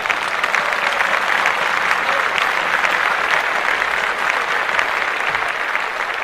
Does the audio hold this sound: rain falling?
no